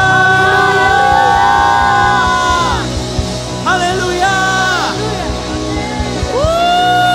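Church congregation cheering, whooping and shouting praise, a loud close crowd of overlapping voices with sustained yells rising and falling, several shouts standing out near the end.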